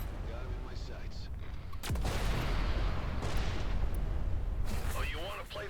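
Spaceship cannon fire in Everspace 2 bursts out in a heavy blast, followed by rumbling impacts and a second loud burst, with faint voices and chatter in the background.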